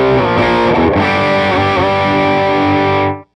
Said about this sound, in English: So this amp also has a great distortion.